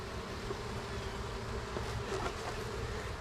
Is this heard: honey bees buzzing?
yes